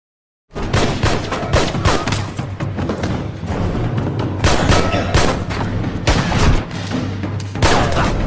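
Heavy, continuous gunfire in a film shootout scene, with rapid automatic bursts and booming shots packed close together after a brief silence at the start, loud and dense throughout.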